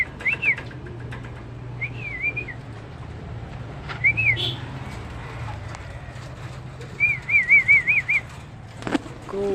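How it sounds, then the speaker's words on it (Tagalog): Pigeons kept as flyers are let loose in the afternoon, with a few brief bursts of wing flapping amid repeated whistled calls and steady low background rumble. "Papaliparin na natin yung mga flyers natin mga kalapatids"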